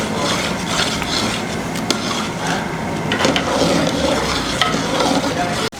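Zarda sweet rice is mixed in a pan, with a steady run of scraping and shuffling stirs over a low simmering bubble and a sharp knock near the end. No voices are heard.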